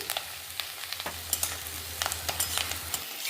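Onion stalks and eggplant fry in a pan with a low steady sizzle under frequent light clicks and scrapes of stirring, close up with no voices.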